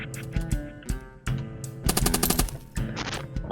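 Gunfire from a pistol in the video game Rogues Gallery: rapid bursts of sharp shots, some tightly clustered and some spaced apart, loud and up front over game music.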